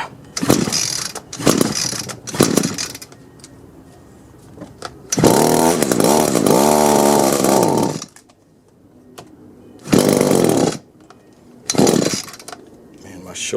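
Free Craigslist Echo string trimmer yanked several times by its pull cord with the choke on, short rasping bursts, then the small two-stroke engine catches and runs loud for a few seconds, dies, and sputters again in brief revs.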